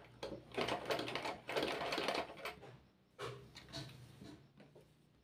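Sewing machine stitching fabric while sewing a pair of women's underwear, running in two longer bursts and then shorter runs, a steady mechanical whirr at moderate loudness with no voices.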